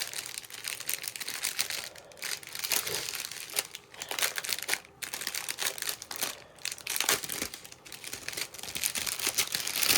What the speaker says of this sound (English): Another rattling of paper.